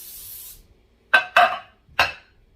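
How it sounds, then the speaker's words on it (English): Three short hissing bursts from a can of Pam cooking spray sprayed into a baking pan, sharp and close, separated by brief pauses after a fading hiss at the start. "I'm just going to spray it down with some Pam."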